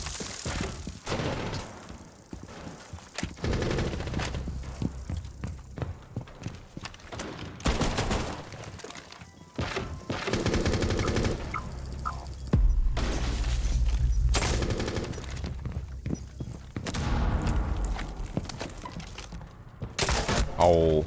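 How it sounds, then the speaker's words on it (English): Shotgun blasts and mechanical weapon sounds in a competitive first-person shooter game, loud repeated bursts amid busy game effects and some voice chatter. "Oh, he had a shotgun."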